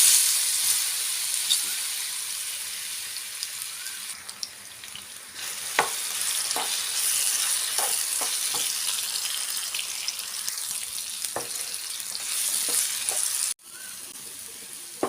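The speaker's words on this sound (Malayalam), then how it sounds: "അതിലേക്ക് പഴം ഇട്ട് നന്നായി വഴറ്റിയെടുക്കുക." Banana pieces sizzle and fry in ghee in a hot pan, a constant crackling hiss broken by repeated sharp scrapes and clicks of stirring, with a sudden drop in intensity near the end.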